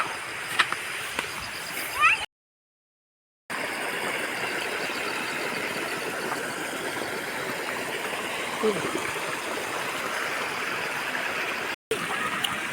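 Steady rushing water fills the whole clip, a broad continuous roar like a small waterfall close by, with brief dropouts and faint voices in the background.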